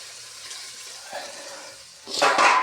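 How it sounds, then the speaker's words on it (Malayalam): Quiet hum, then a short burst of water splashing as it is poured into a pan near the end. "ജസ്റ്റ് ഒന്ന് വെള്ളം ഒന്ന് ഒഴിച്ചിട്ട്"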